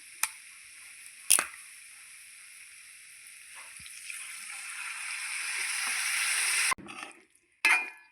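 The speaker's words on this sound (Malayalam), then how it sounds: "സ്റ്റൗ ഓഫ് ചെയ്തിട്ട് നമുക്ക് വിനെഗർ ഒഴിച്ചു കൊടുക്കാം." Vinegar poured into hot ivy gourd (kovakka) pickle in a pan on a switched-off stove sets off a steady hiss and sizzle that slowly builds, broken by a few sharp clinks of a spoon stirring.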